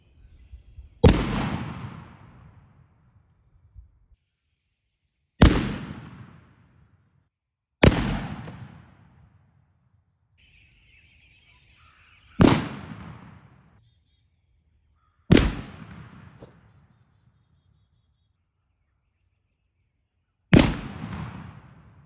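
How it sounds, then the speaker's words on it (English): Six sharp shotgun blasts are fired one at a time with turkey loads at patterning targets, at 20 and 40 yards. Each crack rings out loud and close, then trails off, with gaps of a few seconds between shots and faint background noise. "going to shoot at 20 yards and 40 yards with each type of ammo and see how they perform differently"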